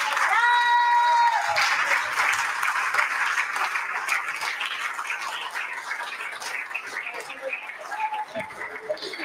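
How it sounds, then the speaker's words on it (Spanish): Audience applause at a charity concert, a dense crowd clapping that starts loud and carries on steadily for the whole stretch, with a voice heard briefly over the opening. "Quiero que me ayuden a recibir con un muy fuerte aplauso a la directora del Mundo Católico, Cecilia Valderrama."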